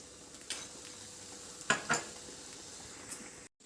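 Sugar being stirred into cooked sago halwa in a pan, a quiet scraping texture with a few brief louder utensil clinks and scrapes, close and without talk.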